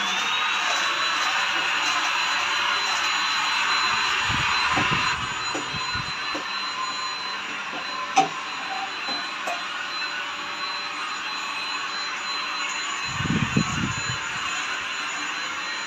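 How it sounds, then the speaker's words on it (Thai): A vacuum cleaner drones steadily with a high, airy whine while sucking dust off a table, with a few bumps and knocks as the nozzle moves about. "ไปดูดฝุ่นกันเลยนะครับ เนื่องจากว่า โต๊ะนะครับ มีฝุ่นเยอะมาก"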